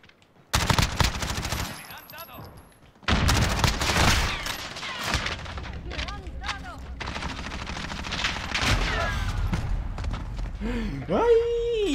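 Gunfire from the video game Call of Duty Modern Warfare in its night mode: dense bursts of automatic fire in loud rapid volleys separated by short pauses, with a player's voice talking over the shooting.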